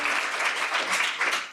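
Audience applause at a gathering honoring an advocacy group, a steady dense wash of clapping that holds evenly through the short stretch with no voices on top.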